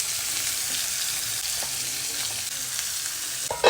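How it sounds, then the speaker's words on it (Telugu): Bitter gourd pieces fry in ghee with a loud, steady sizzle close up, broken by soft stirring scrapes and a sharper clatter right at the end. "ఇవన్నీ వేయించుకోవాలి మంచిగా దూరగా, కొద్దిగా గోల్డెన్ బ్రౌన్ వచ్చేట్టుగా వేయించుకోవాలి."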